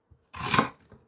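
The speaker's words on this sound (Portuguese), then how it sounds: "Aqui é só cortar no meio e assim" A kitchen knife slices a vegetable in half while a Japanese soup is being prepared at home: one close, crisp cut lasting about half a second, with soft taps before and after.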